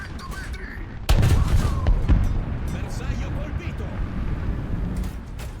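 Gunfire strikes the player's vehicle in the tank battle game War Thunder, a sudden loud impact followed by a second hit and a continuous rumbling engine drone, with someone talking over it.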